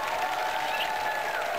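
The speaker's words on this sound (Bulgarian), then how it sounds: "Аплодисменти за Ваня!" Studio audience applauding for Vanya on a Bulgarian TV show, a steady wash of clapping at moderate level throughout the short stretch, with a faint tonal hum underneath.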